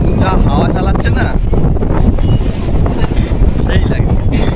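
Strong seashore wind buffets the microphone in a loud, continuous roar, with crashing surf beneath and a person talking over it.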